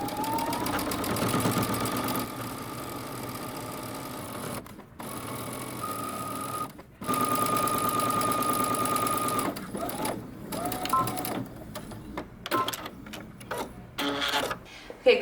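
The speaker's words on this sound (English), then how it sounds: "now while at the machine, we're going to move up to that second stitching line that we have" A sewing machine stitches paper bag drop crotch pants, running in long loud mechanical bursts with brief pauses between runs, close and dominant throughout.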